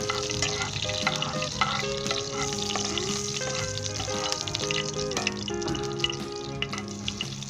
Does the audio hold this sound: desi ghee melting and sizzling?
yes